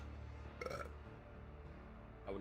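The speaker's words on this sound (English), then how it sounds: "I would not apologize for that burp" A man burps once, a short low belch rising briefly above a steady background hum, close to the microphone during a hobby painting livestream.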